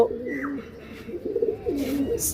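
Racing pigeons coo close by in repeated low, throaty rolling calls, several overlapping phrases, with a few faint higher sounds in the background.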